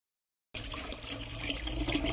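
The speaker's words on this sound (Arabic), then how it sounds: "غادي نزيدو شويه الماء حتى يتغطى" Water pours steadily into a clay tagine to soak it, a continuous splashing stream that starts suddenly after a brief silence and stays fairly close and even throughout, with no talking.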